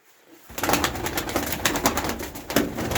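A pigeon coos in a close, loud, rhythmic series of throaty calls that begin abruptly after a moment of quiet and carry on without pause.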